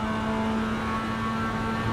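Simulated race car engine held at the top of its revs in third gear at Cadwell Park, a steady, loud, droning whine with strong harmonic tone, no talk.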